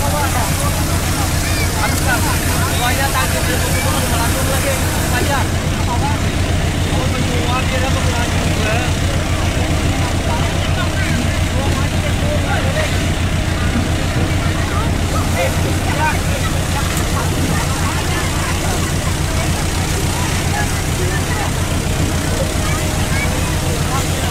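A boat engine runs steadily and loudly close by for the whole stretch, a constant low drone with wind and water noise over it, while people talk now and then.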